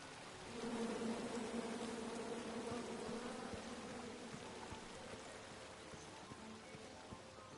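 A swarm of bees buzzes in a PlayStation 5 video game, a steady low drone that holds evenly for the whole stretch with no voices over it.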